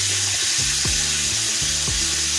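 Vegetables frying and being stirred in a pan for a Bengali dish, a dense steady sizzle with repeated scraping strokes of a spatula at close range.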